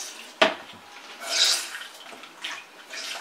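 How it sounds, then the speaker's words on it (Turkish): A makeup sponge is dunked into water and squeezed out, giving a sharp splash followed by soft watery squelches and drips at close range, with no voices. "Suyun içine atıyoruz, çıkarıyoruz, sıkıyoruz."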